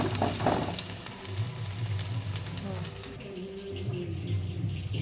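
Chicken pieces coated in masala frying in hot oil, a steady close sizzle running throughout with a low hum beneath, and a voice talking over part of it.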